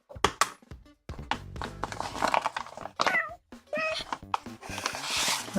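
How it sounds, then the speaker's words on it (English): A house cat standing on model kit instructions during a Bandai gunpla build meows in short bursts between bouts of rustling paper and small clattering, close to the microphone. "The cat is standing on the instructions and will not move."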